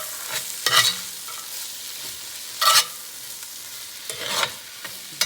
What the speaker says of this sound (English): So I just dump my spices in there, and now I'm going to mix them in here.